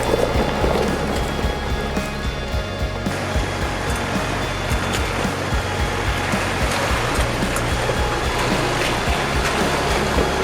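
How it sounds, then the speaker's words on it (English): A 4WD pushes through a small river crossing in the Victorian High Country: steady loud rushing, churning water with engine rumble underneath, continuous and close, with no talking. "So we've just done our second river crossing."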